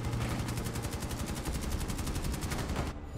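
Rapid automatic gunfire rattles in a video game, a dense unbroken stream of shots lasting about three seconds before cutting off.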